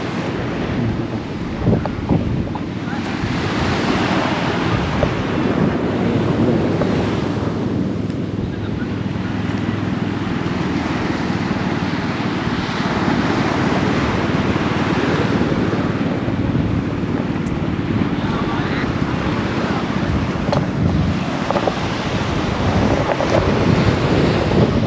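Sea waves and heavy wind noise at sea from a small fishing boat, a continuous loud rushing wash with surging swells and buffeting across the mic, and no clear speech throughout.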